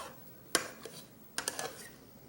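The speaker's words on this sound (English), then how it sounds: "Stir it, man. Got to stir that." A spoon stirring pork neck bones and turnips in a cooking pot, giving a few scattered metallic scrapes and clanks, one sharper knock near the start, over faint kitchen hiss.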